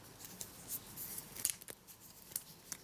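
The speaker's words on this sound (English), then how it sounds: "the wire cutter seems to work pretty well. It will definitely cut it" Wire cutter on an 18-in-1 multitool snipping wire: faint, quick metallic clicks and snips scattered over a few seconds against a quiet background.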